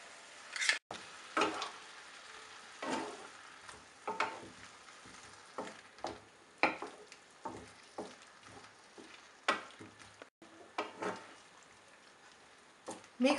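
Sliced mushrooms with fenugreek leaves being stir-fried in a pan: soft sizzling under repeated scraping and tapping of a spoon, fairly quiet and close, with irregular stirring strokes and no talk.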